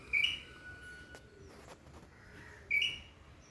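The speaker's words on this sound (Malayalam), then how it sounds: "കരിയിലക്കിളികൾ എന്ന് പറയും അത്." Jungle babblers call from nearby vegetation, two short bright chirps about two and a half seconds apart over a quiet outdoor background.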